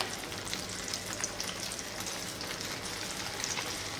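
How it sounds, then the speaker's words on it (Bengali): Fish koftas for a fish kofta korma go into hot oil, giving a steady, even crackling sizzle with fine popping throughout and no talking. "আমি আস্তে আস্তে কোফতাগুলো ছেড়ে দিচ্ছি, তেল গরম হয়ে গেছে।"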